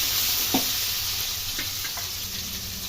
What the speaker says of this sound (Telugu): ఇప్పుడు మనం ఉల్లిగడ్డలు వేసుకోవాలి. అవి కొద్దిగా గోల్డెన్ కలర్ వచ్చేసరికి ఫ్రై చేసుకోవాలి.